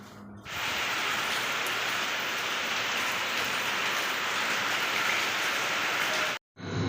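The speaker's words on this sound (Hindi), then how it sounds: "12 बजे 12:30 बजे से बारिश हो रही है बहुत तेज़" Heavy rain pours down outdoors as a dense, steady roaring hiss that fills the scene almost without letup before cutting off abruptly near the end.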